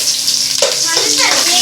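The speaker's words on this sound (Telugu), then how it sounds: "ఇదిగోనండి ఉల్లిపాయ వేసుకుంటున్నాను." Onion drops into a hot frying pan for chicken fry and bagara rice, a sudden close sizzle that flares and keeps hissing, with a brief voice underneath.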